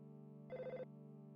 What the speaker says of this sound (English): it seems that the phone is ringing